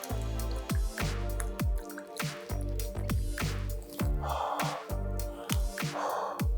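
A dive mask being rinsed in a tub of water, with repeated squishing and dripping splashes and sloshes at a steady rhythm, close and fairly loud, with no voices.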